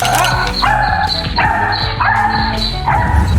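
A dog barks and yips repeatedly in quick bursts at a small kitten, loud and close, with whimpering tones between the barks.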